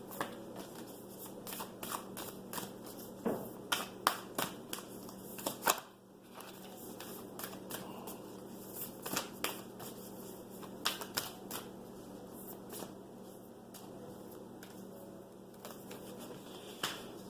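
Oracle cards are shuffled and drawn by hand, with repeated crisp riffles and flicks scattered across a long, quiet stretch, close and fairly faint, with a short pause partway through.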